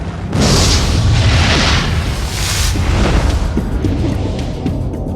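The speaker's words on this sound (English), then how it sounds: "the sheer, terrible beauty of a really dramatic explosion from the inside" A massive explosion erupts in a dramatised scene of the Earth being destroyed, a loud, sustained roaring boom with deep rumble and rushing blast noise that fills the whole stretch without letting up.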